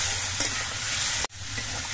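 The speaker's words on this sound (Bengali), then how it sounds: "এবার সব কিছু দিয়ে কষিয়ে নেব কিছুক্ষণ।" Tomato paste, slit green chillies and ground spice paste sauté in hot oil, a steady close sizzle with light stirring, cut by a brief dropout partway through before the frying hiss resumes.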